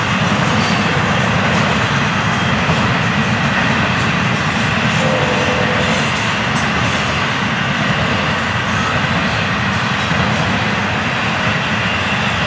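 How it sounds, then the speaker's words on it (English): Freight train with double-stack container cars rolling past, a loud, steady roar of wheels and wagons rumbling continuously throughout without a break. "Now double stacks on this train."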